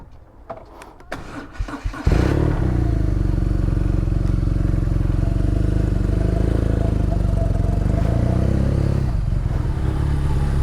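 A touring motorcycle on a Pacific Coast Highway road trip fires up after a couple of seconds of handling noise, then settles into a loud, steady, close-up engine rumble with slight surges for the rest of the clip.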